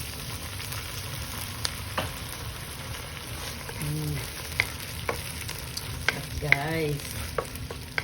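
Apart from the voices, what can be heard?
sardines sizzling in a pan with patola and alugbati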